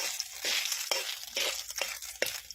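Garlic fries in oil with a little water added, a soft sizzle broken by a few quick scraping stirs, close and fairly quiet.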